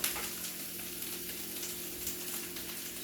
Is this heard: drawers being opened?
no